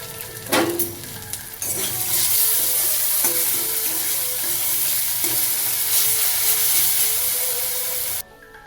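Turmeric and slit green chillies hit hot oil in a frying pan and burst into a loud, steady sizzle and hiss that continues until it suddenly stops, with a few utensil clinks.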